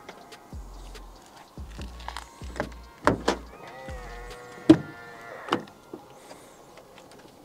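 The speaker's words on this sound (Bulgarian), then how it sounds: "Прибиращи се огледала, екстра." Power-folding side mirrors on a Land Rover Discovery Sport whir with a steady electric motor hum, broken by several close mechanical clicks and knocks as they fold, with no talking.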